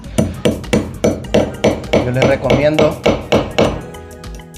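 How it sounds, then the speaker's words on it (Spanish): A hammer taps a small nail into a wall, a steady series of sharp, close knocks about twice a second, while someone briefly talks over the middle of the run. "iniciar así con un clavito y martillo."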